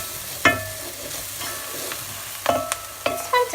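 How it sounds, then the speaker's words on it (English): A spoon stirs vegan minestrone soup in a pot over gentle sizzling, with several distinct scraping clinks against the pot spread across a few seconds, close by and with no talking. "Okay, keep on stirring."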